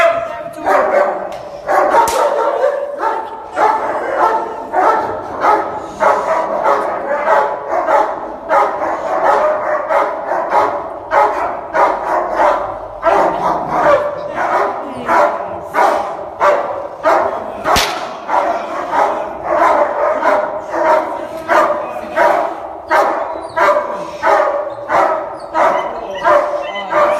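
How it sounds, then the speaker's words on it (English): Young puppies bark and yip continuously in rapid, repeated bursts, loud and close, with occasional whimpers mixed into the steady chorus. "so you see the young pups, young puppies."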